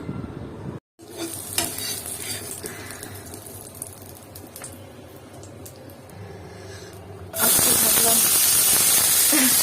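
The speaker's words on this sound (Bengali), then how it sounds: "পেঁয়াজ কুচি দিয়ে রান্না করে ফেলবো পেঁয়াজ বাটার ব্যবহার করব না তেল দিতে হবে নাহলে পানি এসে ছিটা লাগছে" Chopped onion and tomato frying in oil in a home kitchen pan, a steady loud sizzle with stirring scrapes that cuts out briefly near the start, then swells into a much louder, harsher hiss for the final seconds.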